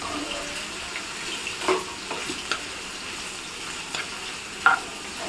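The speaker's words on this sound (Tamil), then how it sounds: "இப்போ இதில் இருக்கிற தண்ணியை வந்து நல்லா ட்ரை பண்ணிடணும்" Chicken and beans frying in a pan with the heat turned up to cook off the water, a low steady sizzle broken by a few scraping stirs, close and fairly quiet with no talking.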